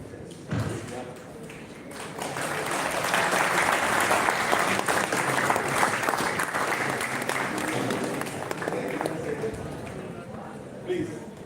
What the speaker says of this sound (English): Please, a good applause for them